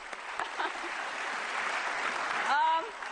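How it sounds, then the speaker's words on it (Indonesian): Studio audience applause on an Indonesian anti-corruption talk show, a steady wash of clapping at moderate level with a brief tonal sound near the end. "Kita kasih tepuk tangan juga untuk Mas Wendo"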